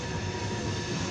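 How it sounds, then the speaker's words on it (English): A long CSX mixed freight train carrying steel coils passes at the Southwest Diamond Junction in Deshler, Ohio, a steady loud low rumble of railcars rolling by with no break in the sound. "We got a eastbound to a southbound CSX long mixed bright coil train here on track"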